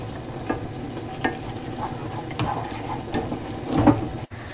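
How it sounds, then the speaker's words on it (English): Milk goes gradually into a butter and flour roux off the heat, a steady soft bubbling hiss under light, irregular spoon scrapes and taps against the pan, ending in one brief clunk. "off the heat gradually add milk to make a thick white sauce"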